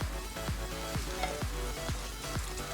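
Black pepper sauce sizzles steadily in a hot pan while a utensil stirs it, scraping in regular strokes about every half second.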